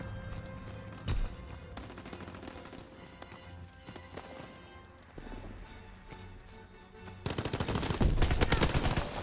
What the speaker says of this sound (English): Fighter aircraft ready. On for a strafing run.